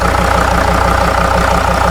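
A 2.7 liter diesel engine idles steadily nearby, a continuous low rumble with an even pulsing beat and no other sounds over it.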